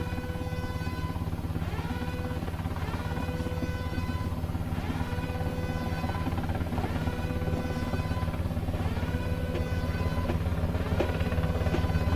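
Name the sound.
helicopter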